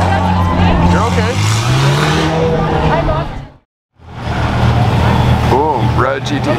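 A red Porsche GT3 with a straight-pipe exhaust drives past at a car meet, its loud engine note swelling, cutting out briefly in the middle, then returning with rising revs.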